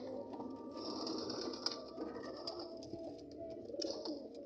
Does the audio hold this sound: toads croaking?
no